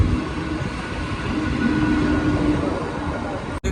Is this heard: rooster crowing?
no